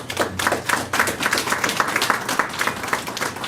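Guests at a banquet give a round of applause, dense overlapping hand claps that carry on steadily for several seconds, with no talk over them.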